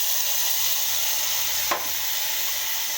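Garlic, chili and peanut paste frying in hot oil in a pan, a continuous even sizzle with a single brief stir or tap near the middle, no voices.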